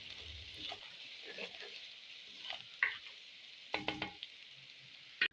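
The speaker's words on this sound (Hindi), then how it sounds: "तमाम मसाले को अच्छी तरह से भून लेंगे" Whole spices and turmeric frying in a pan for Lahori mutton paya, a quiet steady sizzle broken by a few sharp scraping stirs and clinks of a spoon toward the end.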